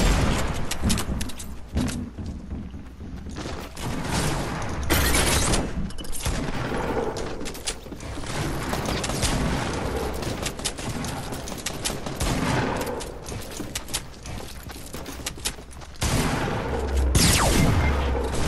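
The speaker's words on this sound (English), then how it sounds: "I got my pistol going." Rapid, dense gunfire in a Fortnite battle royale squad match, sustained bursts of loud cracking shots crowding nearly the whole stretch with a few heavier booms, no voices.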